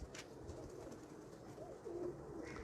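Royal Teddy pigeons give soft low coos over a faint, busy background, heard at moderate distance in a short burst.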